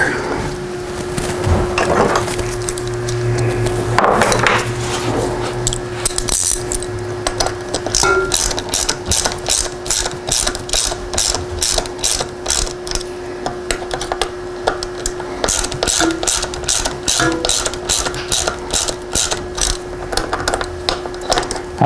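A ratchet clicks in quick, regular bursts while snugging the bolts of a Luna Lander fat suspension fork on a Sondors e-bike, close and loud, with a steady hum underneath and pauses between runs.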